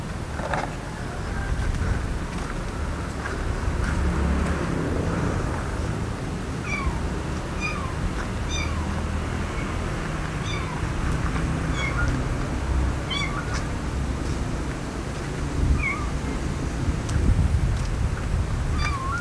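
A kitten meows repeatedly in a cemetery at night, its thin cries rising every few seconds over a constant low outdoor background hum.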